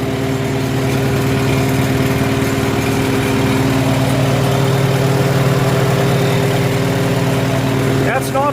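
A Farmall H tractor engine idles steadily and loudly up close, a constant low rumbling drone with no change in speed for several seconds.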